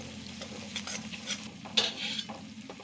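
Whole garam masala spices frying in a pan, a soft low sizzle with quiet stirring scrapes and a sharper clink near the middle.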